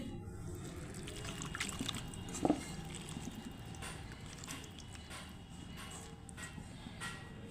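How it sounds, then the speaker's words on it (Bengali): A little water poured into a mixed kochur loti curry paste, a faint trickle and splash over low background noise, with a brief knock partway through. "এখন অল্প জল দিয়ে দিচ্ছি"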